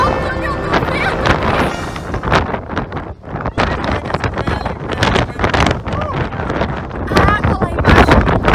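Strong gusting wind roars and buffets the microphone at the Cape of Good Hope lighthouse on a high coastal cliff, loud and continuous with surging gusts throughout.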